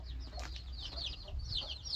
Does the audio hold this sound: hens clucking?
yes